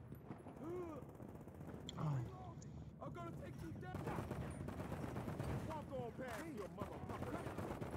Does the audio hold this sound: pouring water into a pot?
no